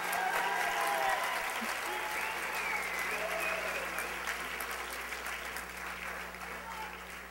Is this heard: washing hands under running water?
no